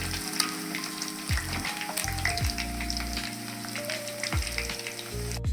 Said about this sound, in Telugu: చికెన్ బాగా ఫ్రై అయిపోయింది. ఇలా బ్రౌన్ కలర్ వచ్చే వరకు ఫ్రై చేసుకోవాలి.